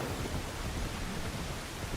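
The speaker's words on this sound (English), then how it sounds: "has rain to the point where you can see the rain pattering off yourself and your horse as it's hitting" Steady, dense rain hiss with a low rumble of thunder in an Assassin's Creed Shadows video game scene, rain pattering on the character and horse, continuous and fairly even throughout without voices.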